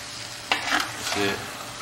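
Kasuri methi is stirred into chicken bharta frying in a pan, a quiet sizzle with two short scraping strokes of the spoon rising briefly above it.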